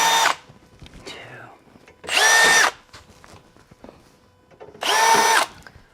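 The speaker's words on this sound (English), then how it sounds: "So I'm using a number 7 drill, and I'm just going to hit this." A power drill fitted with a number 7 bit bores into a Jeep Wrangler in three loud, close bursts of high whirring, each about half a second long, separated by quiet gaps with faint handling noises.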